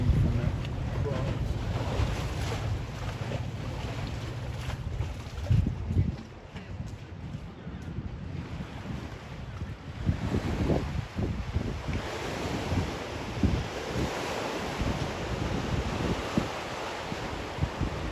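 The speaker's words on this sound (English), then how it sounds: "See there's pretty impressive waves coming in from that craft." Boat wake waves rolling in from a passing craft, a broad continuous wash of water and surf mixed with heavy wind noise on the microphone, with a few louder splashes and thumps partway through.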